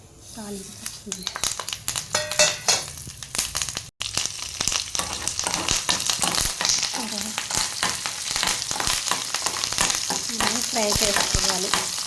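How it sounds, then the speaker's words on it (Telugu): Mustard seeds, cumin, dry chillies and curry leaves crackle and sizzle in hot oil for a chickpea-lentil chutney tempering, a dense continuous frying hiss with stirring, a brief gap midway, and a voice talking over it. "ఫ్రై చేసుకోవాలి."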